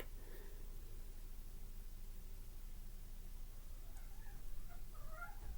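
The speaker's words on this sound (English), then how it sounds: "The cats are fighting." Cats fighting indoors, heard as faint yowls and caterwauling rising near the end over a steady background hiss.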